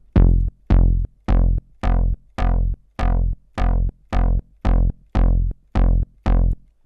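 Plainly distorted synth with no filter shaping, playing a steady run of about a dozen short, evenly spaced plucked notes, each bright attack fading quickly; loud and alone, with no talking.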